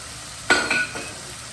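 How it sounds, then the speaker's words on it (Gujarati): Boiled mustard and chil greens hit a pan of roasted spices with a sudden loud sizzle burst, followed by two softer hissing stirs fading back to a low background, with no talk. "તો હવે આપણે એની અંદર ભાજી નાખી દઈશું"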